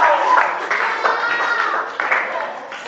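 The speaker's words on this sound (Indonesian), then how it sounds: "Yuk, tepuk tangan dengarkan dulu ya." Children clap their hands in a quick, steady rhythm during a classroom training session, the claps close and fairly loud, with young voices chanting along over them.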